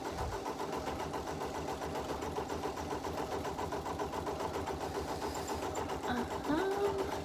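An embroidery machine stitches out a design with a rapid, even mechanical chatter that runs steadily throughout, moderately close, with a brief voice near the end.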